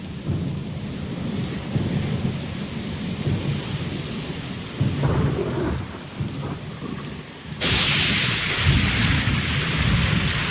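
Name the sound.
thunderstorm at sea in video game Pillars of Eternity II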